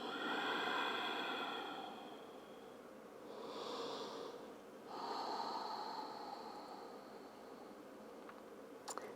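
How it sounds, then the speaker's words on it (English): Slow, deep yoga breaths in child's pose, long airy inhales and exhales rising and falling in a gentle rhythm, close and soft with no talking. "Inhale and exhale."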